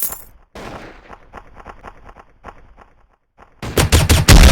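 Shotgun blasts in a video game, with several sharp close shots and short bursts spaced across a few seconds, the loudest cluster of rapid blasts coming at the end.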